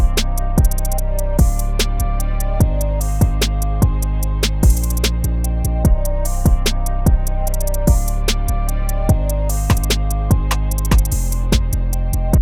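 A sequenced trap drum beat built on an MPC with an MPC 60 vintage-style effect: steady, evenly spaced hits with sharp transients over a thick low end, looping loudly without any voices.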